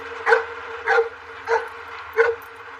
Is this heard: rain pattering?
no